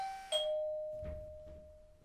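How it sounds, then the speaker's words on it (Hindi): A home doorbell rings once with a clear two-tone ding-dong chime, the bright tones ringing out and slowly decaying in an otherwise quiet room. "तभी जिया के घर की घंटी बजती है।"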